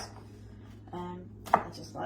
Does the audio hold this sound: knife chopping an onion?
yes